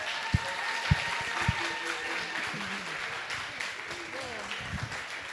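Audience clapping and cheering to encourage a student volunteering to read aloud during a Spanish-language lecture presentation, a steady wash of applause with a few sharp claps standing out.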